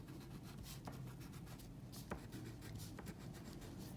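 A pencil scratches letters onto paper at close range, a quiet run of short scribbling strokes with small taps between them and no voices.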